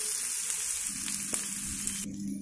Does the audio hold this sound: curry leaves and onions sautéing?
yes